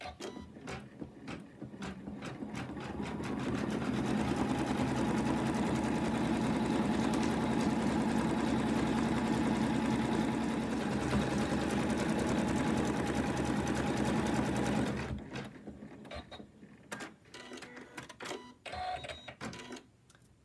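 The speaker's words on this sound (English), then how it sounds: "Now it's going to do the decorative stitch around the applique." An embroidery machine sews a decorative stitch around an in-the-hoop lamb appliqué, its steady, loud mechanical whir running evenly for about twelve seconds before stopping, followed by a few quieter clicks.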